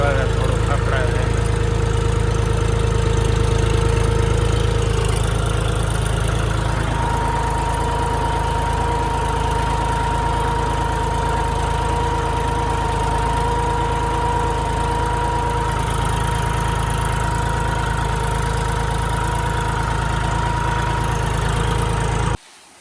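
A farm tractor engine runs steadily near cotton fields, a continuous loud mechanical drone with a throbbing low rumble and a sustained whine, unbroken for over twenty seconds before cutting off at the end.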